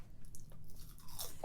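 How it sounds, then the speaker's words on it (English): A husband eats crunchy chips nearby, with faint, scattered crunching bites in a quiet room, ending in one sharper crunch. "it's the husband with the chips"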